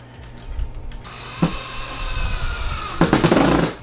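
A power drill fitted with the wrong bit whirs in short bursts with a pause between, loud and close, grinding as the bit bites in.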